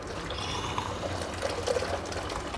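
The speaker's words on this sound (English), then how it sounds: "So I'll leave that valve open for a little bit, just let all the last drips out." The last drips drain from the valve of a home brewery setup, a soft trickle with a few brief, brighter drops and splashes near the end.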